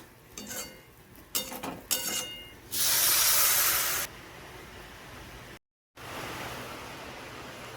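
Some clinks and scrapes of a utensil, then a steady hissing pour of water lasting over a second, followed by a soft background hiss.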